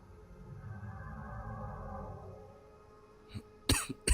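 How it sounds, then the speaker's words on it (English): Several sharp coughs arrive in a quick cluster near the end, loud and close, following a stretch of low murmuring background noise. "Cough is just driving me nuts."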